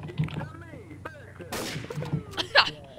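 Gunfire in the video game Garry's Mod, a few sharp shots and bursts mixed with excited voices talking over each other throughout.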